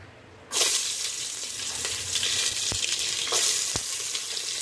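Onions frying in ghee burst into a loud, steady sizzle after a brief quiet start, with a couple of sharp clicks partway through and no talking.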